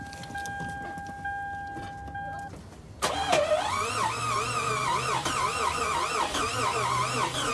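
A 2006 Lexus IS350 with a freshly rebuilt engine catches about three seconds in, after a quieter stretch with steady tones, then settles into a loud, steady mid-pitched running note close by, with voices faintly in the background.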